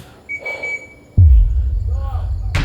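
A security guard's single sustained whistle blast sounds briefly at an abandoned waterpark, followed by a sudden loud rumble and a faint voice in the background.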